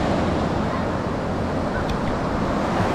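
Steady roar of beach surf with wind buffeting the microphone, a constant broad wash of breaking waves and gusts throughout with no clear voices.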